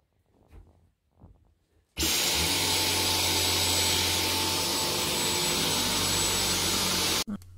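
A Dyson V10 Animal cordless vacuum cleaner switches on over carpet with a loud, steady motor whine and airflow roar for about five seconds, then cuts off abruptly; faint room sounds come before it starts.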